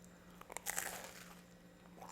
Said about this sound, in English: Got some crunch on that bread. Let's give it another bite.